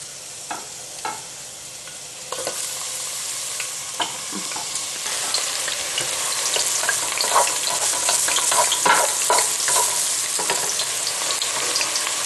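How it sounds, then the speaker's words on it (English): Onions sautéing in a pan for eggplant moussaka, a steady close sizzle that grows louder partway through, broken by scattered sharp pops and crackles, with no talking. "so onions sweated. Now we're gonna cook a couple more minutes"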